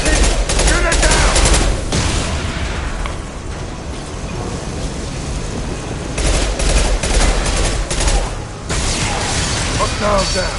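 Heavy sci-fi gunfire in a Mass Effect 2 battle, rapid volleys and crashing impacts, loud and sustained with brief lulls, layered under combat music and effects as voices call out.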